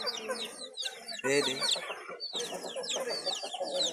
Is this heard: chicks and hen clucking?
yes